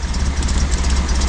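A Datsun 240Z that sat wrecked for 30 years, freshly started and idling roughly without an exhaust can and not firing on all cylinders, a loud, close, low throbbing rumble with an uneven pulse.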